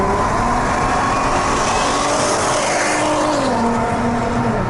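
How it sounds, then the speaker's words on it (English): A 2008 Volkswagen R32 drones steadily at highway cruising speed, a loud, continuous low engine hum with road and wind noise filling the cabin throughout. "Now here we go, 55 miles an hour, you hear a little bit of that drone"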